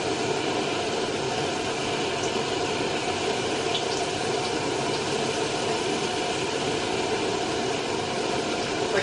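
A second batch of agedashi tofu fries in hot oil over a high-output burner, giving a loud, continuous, even sizzle with no pauses.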